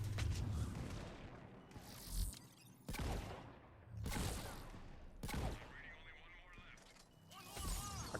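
Gunfire from a Mass Effect 3 multiplayer match: a few separate bursts of shots and booming impacts spread across the stretch, fairly loud over constant game ambience.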